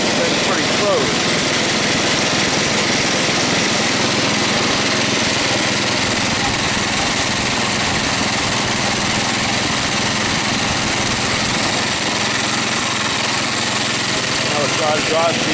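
An AMF Huskey two-stage snow thrower's small engine runs steadily with its blade engaged and spinning. It is a loud, even, buzzing drone throughout, close by, with a voice faintly under it.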